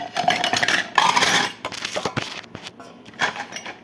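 Bowls and dishes being washed by hand, with close clattering, scraping and clinking of dishware in quick irregular bursts, and a short pause midway.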